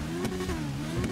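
A Hayabusa motorcycle in GTA 5 revs steadily with nitro engaged, a loud, continuous engine drone with a slightly wavering pitch and no voices.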